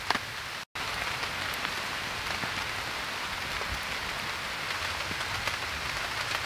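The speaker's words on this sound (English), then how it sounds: "And we're going to get rained out." Steady rain pattering on a woodland camp built from construction garbage, a dense continuous hiss of drops with one brief dropout near the start, no voices.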